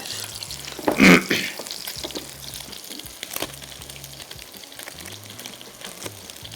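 A chicken burger patty for a barbecue chicken burger fries gently over a low flame, giving a soft steady sizzle with one brief louder spit early on and a low hum underneath.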